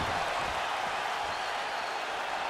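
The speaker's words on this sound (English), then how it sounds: "Listen to this crowd." A wrestling arena crowd cheers and applauds in a broad, steady roar, heard faintly and at a distance, with no clear voices on top.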